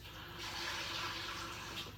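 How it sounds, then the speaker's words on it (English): Water poured into a pot of cashew mushroom soup, a steady liquid pouring and filling sound that runs continuously for about two seconds, close and moderately quiet, with no talking. "I want to put a little more water in there because of the cashews."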